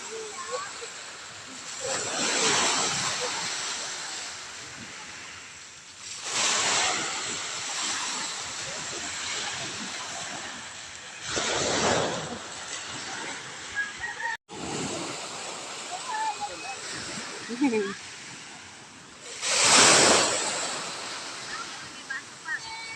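Sea waves washing onto a shore, heard as slow, rhythmic surges of rushing water that swell and fade every few seconds, with faint voices at times.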